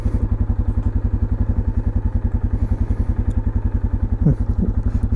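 A 2006 Yamaha Kodiak 450 ATV in low range four-wheel drive chugs steadily up a slope, its single-cylinder engine thumping in a fast, even, close pulse with a few faint clanks, no talking.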